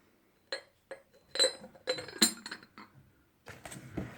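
A lid is set onto a glass teapot used for brewing herbal or regular tea, giving a few light glassy clinks and taps in close, quiet succession with silence between them.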